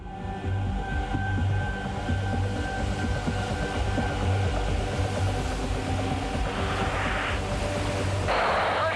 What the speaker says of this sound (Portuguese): Essa simulação vai mostrar os efeitos de ventos fortes se uma pessoa normal estiver numa sacada desprotegida.